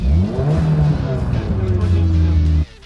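Close, loud revving from a Mitsubishi Evo race car engine, its pitch rising through a sustained rev before cutting off abruptly near the end.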